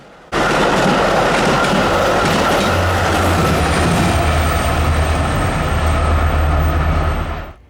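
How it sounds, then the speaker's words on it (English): Metra commuter train passing close by at Bensenville rail yard in Chicago, a loud steady roar of wheels and rolling stock that starts abruptly and holds for about seven seconds before easing off. "we got jump scared by the same Metra that we had caught earlier"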